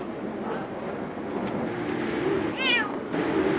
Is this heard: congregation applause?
no